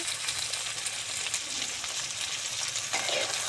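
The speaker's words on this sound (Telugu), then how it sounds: "మా మమ్మీ అయితే కలుపుతున్నారు." Eggplant and egg curry fries in a pan with a steady, dense sizzle and faint scraping as it is stirred, close and continuous with no talking.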